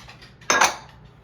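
Chopped celery and onion tipped into a cooking pot, one brief close clatter and rustle lasting under half a second against a quiet kitchen background.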